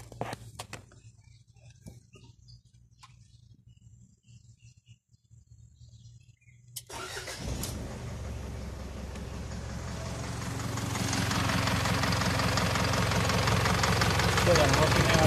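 An Isuzu 4JJ1 TC diesel truck engine cranks, catches and settles into a loud, rough idle after a quieter stretch, with someone speaking over the start.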